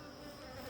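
Bees being tended outdoors, with a turtle nearby, fill a short moment with a steady, close insect drone that holds evenly throughout, with no voices.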